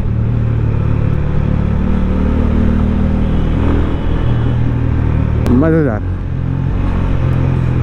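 Honda CB350 motorcycle engine at a steady cruising rumble, loud and close, with a brief shift in pitch near the end while a rider speaks over it.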